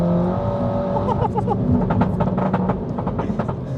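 A fully built 400+ BHP Mini F56 pulls hard on a wet road, its engine roaring loud and close as it accelerates through the gears, with a brief voice in the cabin.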